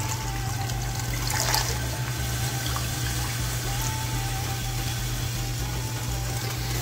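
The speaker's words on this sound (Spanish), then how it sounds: "Les agregamos agua que las tape." Tap water pours steadily into a cooking pot over peeled, chopped potatoes, a continuous splashing gush running unbroken for several seconds with no voices.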